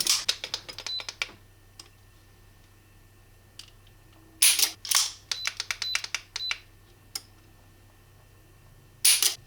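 The trigger of a Taurus 856 revolver is pulled in single action for a test. Each pull sets off bursts of close, sharp mechanical clicks as the hammer cocks and falls, in several separate groups with quiet gaps between them.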